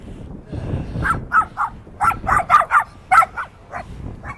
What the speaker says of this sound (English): There's this little dog barking at me right now.